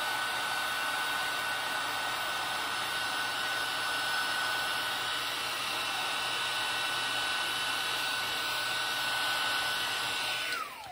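A heat tool melts embossing powder on a card, giving a steady, loud, continuous blowing whir with a faint whine that runs unbroken for about eleven seconds and dips slightly at the very end.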